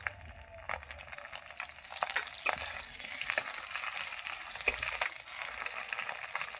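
Egg omelette frying in oil in a pan: a steady close sizzle that swells after the first couple of seconds, with scattered small pops and scrapes and no talking.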